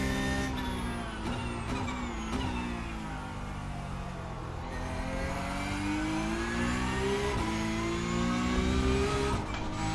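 Porsche Cup race car engines at Hockenheim in iRacing, several cars droning and revving together with pitch rising and falling through gear changes, steady and moderately loud over ten seconds.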